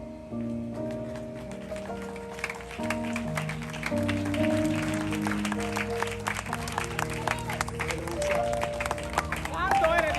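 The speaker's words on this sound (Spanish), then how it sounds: "Te aplaudo para el Señor." A church congregation claps for the Lord during a Spanish-language testimony service, lively applause rising under sustained organ or keyboard chords, with voices and crowd murmur mixed in and the clapping growing louder toward the end.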